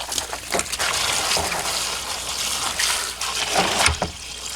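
Water pouring in to fill a small 20-gallon guppy pond lined with gravel and rocks, a continuous rushing, trickling flow close by, steady and fairly loud with occasional splashes.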